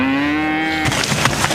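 A cow gives a loud, close moo, a drawn-out low call that rises slightly in pitch before breaking into a rough, noisy end.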